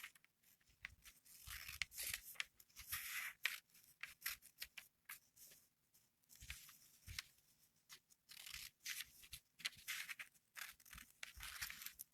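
Scissors snipping through paper to cut out shapes for mason jar luminaries, a quiet, close series of irregular crisp snips and rustles spread across the whole stretch, with no voices.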